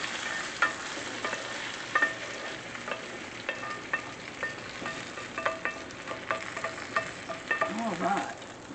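Bacon and onions fry in a heavy skillet with a steady crackling sizzle, broken by repeated scraping stirs and clicks from a utensil against the pan, growing busier toward the end.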